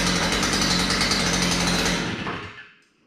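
A warm Stihl FS240R brush cutter engine fires after a pull start and runs loud and close at a steady buzzing, rattling pitch, then cuts out and fades to quiet near the end.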